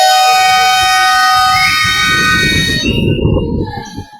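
A loud, sustained electronic buzzer at a summer-league youth basketball game sounds for about three seconds, then cuts off into crowd noise and chatter.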